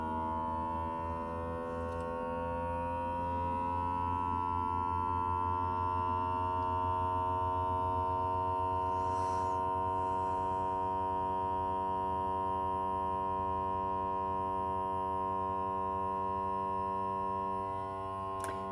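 Small vacuum sealer in a tiny RV kitchen hums steadily with a droning motor whine as it sucks air out of a bag, a continuous near tone with no talking.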